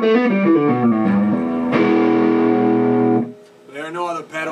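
A clean electric guitar rings out straight into an amp through a Dr Z Airbrake attenuator, with no distortion, playing a few chords and a sustained strum, followed briefly by a voice.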